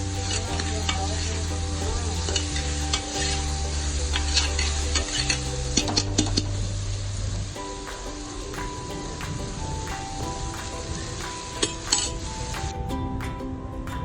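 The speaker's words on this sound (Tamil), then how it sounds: "ஆட் பண்ணி விட்டு நல்லா மிக்ஸ் பண்ணி விடுங்க" Turmeric powder stirred into a frying sambar rice mixture: steady close sizzling with scraping spoon strokes and occasional clinks of metal on the pan, alongside a steady musical tone.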